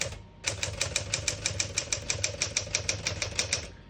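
Keys strike steadily on a 1964 Smith-Corona Sterling portable typewriter, a run of about twenty crisp, evenly spaced clacks heard close up and alone.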